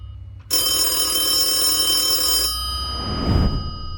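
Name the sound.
telephone ringing sound effect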